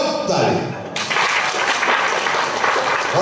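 A worship congregation claps together, a dense continuous patter of hands lasting a few seconds, loud and close, with voices mixed in.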